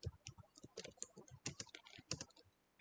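Fingers type on a computer keyboard while entering code for sorting numbers, a quick uneven run of close, crisp key clicks with short pauses between bursts.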